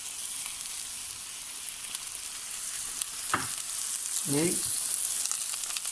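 Diced eggplant and mixed vegetables sizzle steadily in olive oil in a pan, with a few clear utensil scrapes and stirs near the end and a brief spoken word near the start.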